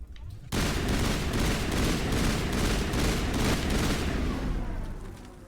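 Pistol gunfire in the Mass Effect video game, a dense, loud run of rapid shots and booms that starts abruptly and carries on for several seconds with no pause.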